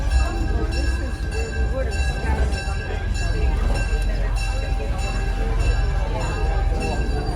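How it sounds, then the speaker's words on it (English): A train rumbles steadily along with a low rolling drone and faint tonal hum, while people talk over it throughout. "until the engineer stops the train and blows the whistle"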